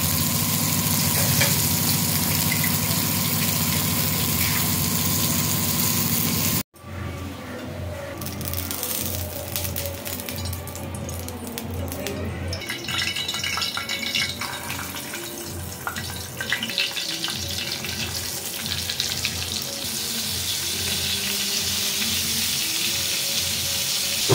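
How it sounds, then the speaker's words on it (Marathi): Bombay duck (bombil) fish coated in ginger-garlic masala frying in a pan, a loud, dense, continuous sizzle close up, briefly interrupted then resuming with occasional stirring and shifting sounds, no talking. "हे बोंबील फ्राय करायला लावते"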